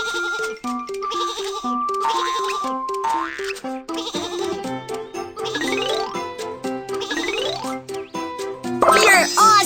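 Sheep bleating repeatedly on a train track, loud and close, with jingling tones and musical accompaniment throughout.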